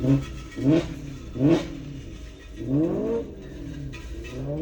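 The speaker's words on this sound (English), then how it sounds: "somebody's revving their engine" Car engine revving nearby in several separate bursts, each rising and falling, the last one longer and drawn out, with nothing else competing.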